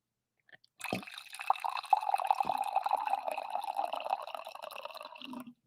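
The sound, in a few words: pouring coffee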